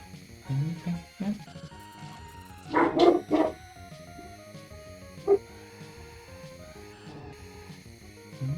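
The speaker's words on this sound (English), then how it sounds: "He's a dog." A pet dog named Mr. Moonpie barks a few times at close range, sharp bursts rising over a steady background music track.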